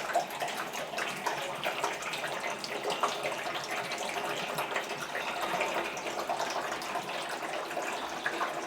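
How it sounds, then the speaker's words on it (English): Water runs steadily into a rain barrel and fills it, with a continuous close splashing and gurgling flow and no voices. "It's really fun for me to watch as the bottom barrel fills up and the water goes into the next barrel."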